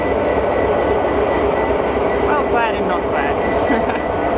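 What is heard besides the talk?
The Inlander passenger train arriving at Mount Isa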